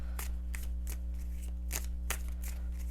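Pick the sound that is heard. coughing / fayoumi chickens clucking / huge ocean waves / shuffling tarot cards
shuffling tarot cards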